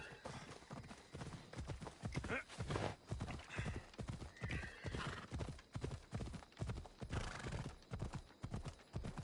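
A horse galloping in the video game Assassin's Creed Odyssey, with rapid rhythmic hoofbeats, a neigh mixed in, and quiet game sound around it.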